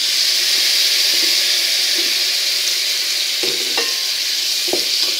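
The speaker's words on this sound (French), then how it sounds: "Et on vient bien mélanger de façon à ce que l'huile vienne, le potimarron vienne imprégner l'huile." Squash pieces stirred into hot oil in a pan, a bright continuous sizzle that stays loud and close, with a few scraping clicks of the utensil toward the end.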